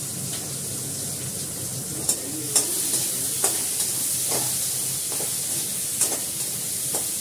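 Nigella seeds and radhuni spice frying in a little oil, a steady broadband sizzle with occasional sharp pops and utensil clicks throughout, close and fairly loud, no voices.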